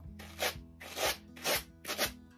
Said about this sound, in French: je brosse avec l'autre brosse